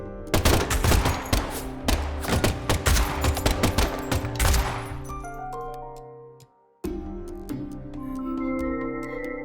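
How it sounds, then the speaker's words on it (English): Rapid bursts of gunfire ring out in a castle hall in Deadly Premonition 2, a dense loud volley that fades into tense music with no talking. "the last gunshot we heard sounded ominous, Zach."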